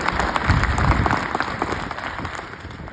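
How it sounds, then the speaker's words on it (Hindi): A crowd of students claps together in a hall during a motivational talk, a sustained burst of applause that swells early and gradually thins out toward the end. "एक बार ताली बजाओ उस अरुणिमा के लिए"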